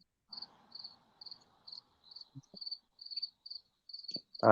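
Crickets chirp in a steady, evenly spaced rhythm throughout, bright and fairly close, with a few soft low knocks and a louder burst of noise at the very end.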